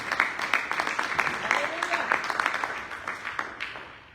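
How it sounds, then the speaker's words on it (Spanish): A church congregation applauds in praise during a sermon, a steady wash of many hands clapping at moderate distance, tapering off toward the end. "aplauso al Señor. Give the Lord a hand of praise."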